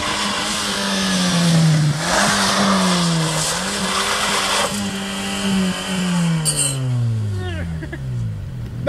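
A car engine revs hard through its exhaust, its pitch rising and falling in repeated loud surges with a brief squeal near the end and voices talking faintly beneath.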